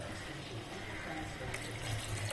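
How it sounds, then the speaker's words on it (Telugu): Water poured into a pan of prawn curry makes a steady splashing rush that lasts the whole moment, fairly close and even. "ఇప్పుడు వాటర్ వేసేస్తున్నాను."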